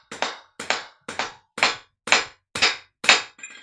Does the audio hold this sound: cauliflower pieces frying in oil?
no